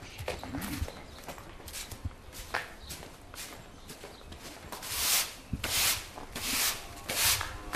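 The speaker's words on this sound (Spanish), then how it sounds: "Barrer donde le vas a echar la comida, ¿no?" A broom sweeps the floor of a cattle barn where feed will be laid out, giving repeated scraping and brushing strokes that grow louder and more rhythmic toward the end, with scattered knocks between them.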